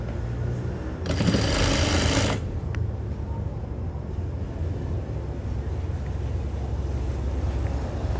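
A sewing machine stitching a thin fabric binding strap, one whirring run of just over a second, set against a constant low background rumble.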